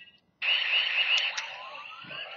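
A Gekiranger Geki Claw toy in battle mode sounds off with a loud, sustained electronic siren-like tone with a wavering pitch and a couple of brief chirps, playing alone after a short pause.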